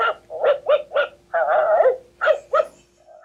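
Sled dogs barking in a quick series of loud, close barks and yips, about eight in bursts with a brief whine at the end, no talk.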